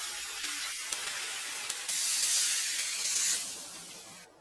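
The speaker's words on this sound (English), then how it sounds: "He starts by frying the steak on a plate." Steady sizzling hiss of steak frying on a hot iron plate, loud and close, swelling briefly in the middle before cutting off abruptly.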